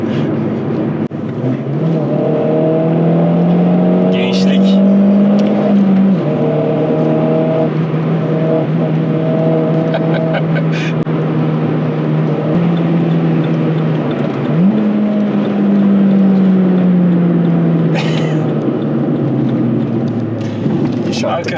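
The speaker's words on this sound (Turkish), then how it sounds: "Turbo doldurmaya başladığı zaman egzozun sesi keskinleşiyor." A turbocharged Opel Corsa OPC hot hatch revs, its exhaust holding steady drones with rising pitch sweeps, sharpening as the turbo spools, loud and close, while people talk over it throughout.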